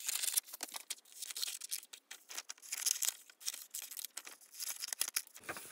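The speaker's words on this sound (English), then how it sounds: "First things first, we're gonna cut out the pattern." Paper being cut out for a leather wallet pattern, with a steady run of crisp snips and rustling crinkles close to the mic and no talking.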